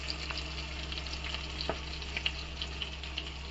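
Ginger goes into a pan of frying snail curry, giving a soft, steady sizzle dotted with small pops and a faint clink, quiet and close with no speech.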